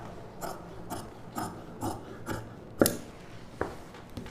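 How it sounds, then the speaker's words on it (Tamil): Scissors cut fabric for the puff sleeve of a girl's paavadai sattai, making a series of crisp, close snips at a steady rhythm roughly twice per second, with a sharper click partway through. "இப்போ இந்த அளவு கட் பண்ணிக்கலாம்."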